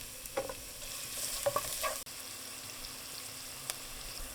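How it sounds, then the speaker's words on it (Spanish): Onion goes into hot lard in a cooking pot, giving a soft sizzle with a few brief scrapes and stirring knocks early on, then settling into a quiet, even frying hiss. "Ahora ponemos suficiente grasa en una cazuela. Yo uso manteca y cuando esté caliente agregamos la cebolla."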